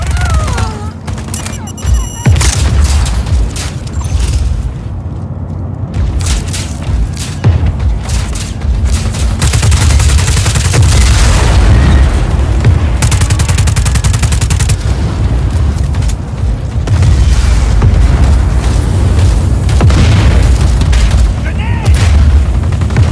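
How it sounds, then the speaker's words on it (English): Fuel tanks exploding during a firefight in Just Cause 4, heard as loud booming blasts over dense, sustained gunfire and rumble, with a sharp crack near the start and continuous heavy action throughout. "Look at all these fuel tanks! Carajo! Hey, hey, come on! Let's blow up all this Espinosa shit!"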